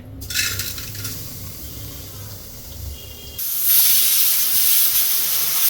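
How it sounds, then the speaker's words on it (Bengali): A pressure cooker boiling chana dal lets out a loud, steady steam hiss that starts abruptly about halfway through and keeps going, after a quieter stretch of low kitchen rumble. "এবার এটা প্রেসারে দিয়ে দিচ্ছে।"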